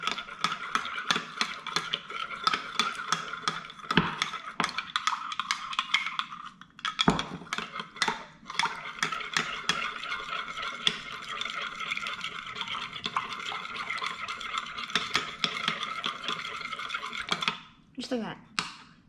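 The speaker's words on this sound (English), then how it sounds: "And then get a spoon and start stirring it" A spoon stirs an active yeast mixture in a bowl, giving repeated scraping clinks and swishes at a close, moderate level, with occasional voice sounds in the background.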